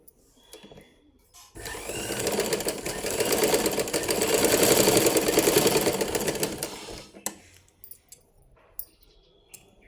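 A sewing machine stitches along a folded fabric edge in one steady run of about six seconds, its rapid needle chatter loud and close, with quiet handling noises before and after.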